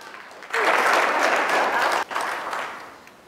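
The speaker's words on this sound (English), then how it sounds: "Round of applause for the Leafs" At a presentation skills workshop, applause breaks out suddenly for an attendee in a Maple Leafs jersey, briefly dips, then swells again before fading, with some voices mixed in.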